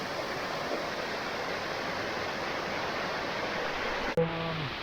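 An artificial waterfall in the mountains between Hue and Da Nang pours as a steady, moderate hiss of falling water, broken near the end by a short handling bump and a faint tone.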